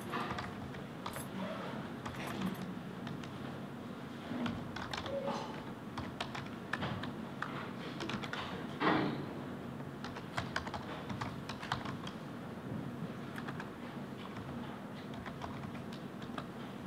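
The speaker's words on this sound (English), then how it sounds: "just type it up here." Typing on a computer keyboard during a talk on Black queer feminist Atlanta studies, a steady run of close, irregular key clicks over faint room noise, with one louder thump near the middle.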